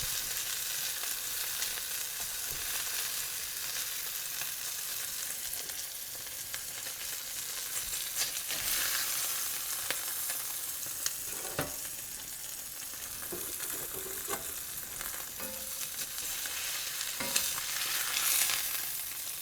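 Steady, bright sizzling of burger patties frying in a hot skillet, continuous crackle with occasional louder pops and a faint scrape of stirring.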